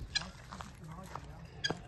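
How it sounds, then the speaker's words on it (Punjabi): Desi rooster and hens in a home yard give a few short clucking calls, one burst near the start and another near the end, over low steady background noise. "ਇੱਧਰ ਵੀ ਕੁੱਕੜ ਹਨ"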